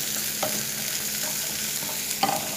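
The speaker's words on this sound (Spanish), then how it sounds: "le agregamos la cebolla y la vamos a sofreír" Onion sautéing with golden garlic in a pan, a quiet continuous sizzle with a few soft utensil scrapes, the last one a little louder.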